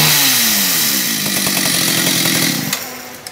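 A Stihl 031 chainsaw with a 48 cc engine runs loud and close, its whine rising and falling with the throttle, with a couple of sharp knocks near the end.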